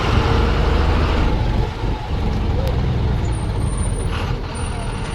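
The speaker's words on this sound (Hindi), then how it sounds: "आगे से एक छोटी गाड़ी आई है, लेकिन यहाँ पर पास के लिए थोड़ी परेशानी हो रही है।" A vehicle approaching on a narrow mountain road between Sundla and Nadal, a loud, steady engine rumble close by with a hiss and a faint high squeal near the end.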